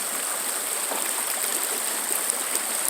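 Creek water running over bedrock, a steady broadband rush with no breaks, moderately loud and close throughout, with no voices present.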